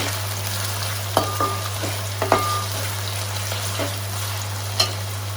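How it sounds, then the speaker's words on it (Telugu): Onions fry in hot oil in a kadai with a steady sizzle, several sharp clinks of a spoon stirring against the pan, and a low constant hum underneath. "ఆ తర్వాత కడాయిలో ఆయిల్ హీట్ ఎక్కిన తర్వాత అందులో ఆనియన్స్ ఏసి, ఆనియన్స్ గోల్డెన్ బ్రౌన్ కలర్‌లో వచ్చేంత వరకి ఫ్రై చేసుకోండి"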